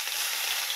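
Garlic and cumin seeds sizzle steadily in a couple of spoons of hot oil in a pan, a close, continuous crackling hiss with no voices over it.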